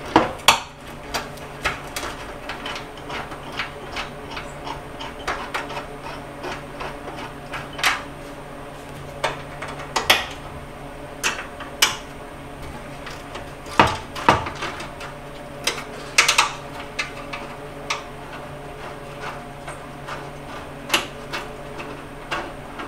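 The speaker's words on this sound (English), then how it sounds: "get these six bolts out" Bolts being worked out of wooden attic stairs during a face-wood replacement, giving sharp metallic clinks, taps and rattles at an irregular pace, close and fairly loud, with a steady low hum behind.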